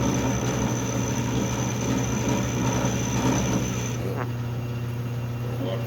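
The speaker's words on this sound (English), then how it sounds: "I'm going to put a 3/8 collet in there and start doing some milling." A milling machine fitted with a 3/8 collet runs on metal, producing a steady, loud mechanical drone with sustained whining tones that stays even for the whole stretch.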